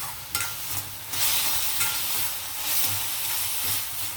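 Small tomato pieces sizzling in a pan for a chana dondakaya masala curry, a loud steady hiss with bursts of stirring scrapes, close and continuous with no talk.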